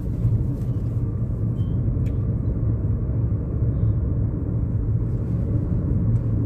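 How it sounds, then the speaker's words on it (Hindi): Inside a 2022 Maruti Suzuki Brezza driving slowly over a rough road in Raigarh, a steady low cabin rumble of road and engine noise continues throughout, with faint knocks and no talk. "मैं थोड़ा सा अभी आपको खराब रोड पे लेके चलता हूँ"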